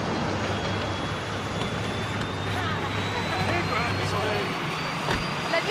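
Airplane engine roaring steadily near a runway, a broad continuous rushing drone with a faint rising whine above it, voices talking over it.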